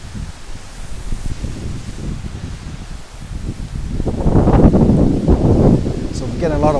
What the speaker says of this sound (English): So we're getting a lot of wind now, so there's really a lot of windy breeze coming through.